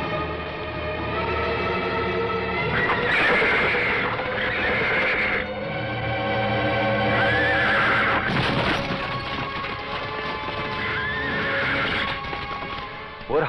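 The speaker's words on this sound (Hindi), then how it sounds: "वो रहा कृष्णा का घोड़ा" A horse in a Hindi action film scene neighs loudly several times in long, wavering whinnies, with clopping hooves and background scoring running underneath throughout.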